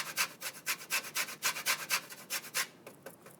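Lemon zest is rasped over a pandoro on a fine grater, making a steady run of about a dozen quick, dry scraping strokes that stop near the end, close and fairly soft.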